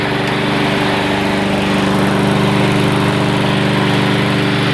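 A Weibang WB537SCV self-propelled lawn mower engine runs loud and close with a steady, buzzing drone that stays constant the whole time.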